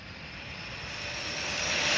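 Arrma Big Rock RC truck on a 4S 2200 mAh battery pack running at full throttle, a steady high-pitched motor whine that builds gradually in loudness over two seconds, with no voices.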